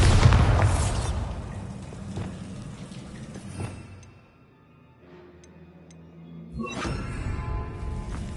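Bombarda spell blast in the Hogwarts Legacy video game: a loud burst at the start, then rumbling debris and scattered crackles fading, with a second sharp pop and renewed rumble near the end.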